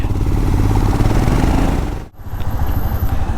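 Motorcycle engines rumbling steadily and loud as a group of bikers set off on a long ride, with a brief dip and cut partway before the engine drone returns strongly.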